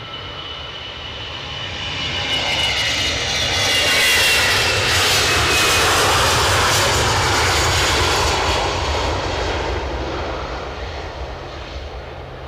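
Loud, sustained roar of an SAS Airbus A320neo jet at Edinburgh airport, swelling to a peak midway and easing off, with no voices.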